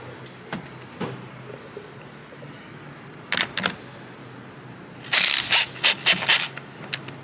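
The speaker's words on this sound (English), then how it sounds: "You're going to need a 10 mil, either a wrench or a socket." Ratchet wrench with a 10 mm socket loosening a car battery terminal nut on a DE5 Acura Integra Type-S or FL5 Civic Type-R, heard as brief clicking bursts, a couple of isolated clicks, then a longer rapid ratcheting run near the end, with no talking.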